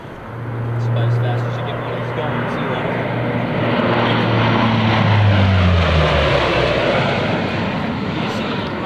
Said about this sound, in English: Major Asbridge is positioning Fat Albert for a low-altitude, high-speed pass